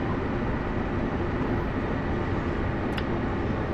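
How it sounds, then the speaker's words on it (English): Train rumble from Train Sim World in a New York City scenario as the train brakes and slows, a steady broadband roar throughout with a brief faint high squeal near the end. "Put the brakes on these because the train is slowing."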